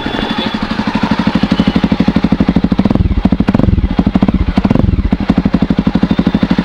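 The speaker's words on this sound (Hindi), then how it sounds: "अब आपको सुनाता हूँ इस बाइक का इस मोटरसाइकिल का फायरिंग" A Jawa Perak motorcycle with a half-cut exhaust idling close by, a loud, steady rapid thumping beat with crackly clatter, the revs rising briefly in the middle.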